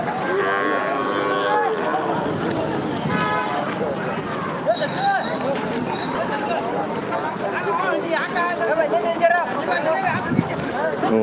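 Khosa-breed bulls low at a livestock show, their moos rising over constant crowd chatter and an announcer's voice, with occasional horn toots in the busy fairground.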